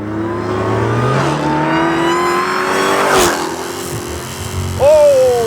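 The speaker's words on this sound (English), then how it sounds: "roasted the tires in second gear" A 707-horsepower Dodge Hellcat accelerates hard in second gear with its tires spinning, the engine's rising roar swelling loud and close before it is cut off by a sharp burst near the end.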